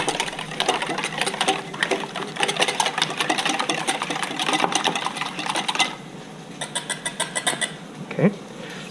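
Eggs whisked briskly by hand in a bowl for a pasta carbonara, a fast steady clatter of rapid strokes that runs close and loud for about six seconds, then slows into short separate beats.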